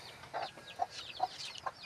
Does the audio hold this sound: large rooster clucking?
yes